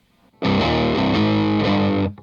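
Up-close distorted electric guitar rings out barre chords in the second variation of a song's chorus, a brief sustained phrase with a couple of chord changes before stopping.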